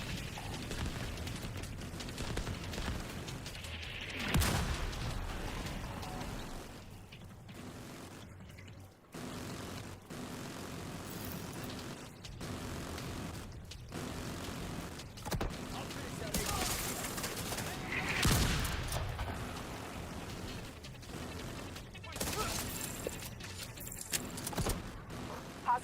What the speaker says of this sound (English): I'm seeing mortars on the roof, and you've got a lot of hostiles ahead. But it looks like the smoke's working. The autocannon seems to be firing blind.